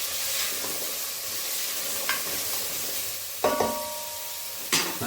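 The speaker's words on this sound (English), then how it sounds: "Give that a stir." A pot of stew with gravy granules and pepper being stirred, a low steady bubbling hiss with three sharp scraping clanks of a spoon against the pot, close and without voices.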